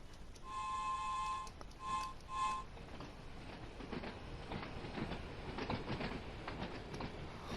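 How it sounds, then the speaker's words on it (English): A two-car passenger train on the Smallbrook shuttle line on the Isle of Wight rolls past in the Train Sim World 2 game, with a brief horn-like tone, then a sustained rumble and clattering wheels of moderate loudness. "Here comes the train."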